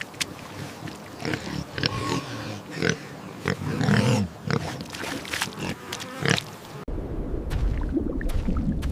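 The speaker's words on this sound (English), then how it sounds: "It's a pig." A pig grunts and snorts in a series of short, irregular bursts over a low, rumbly background, fairly close, with a louder steady noise taking over near the end.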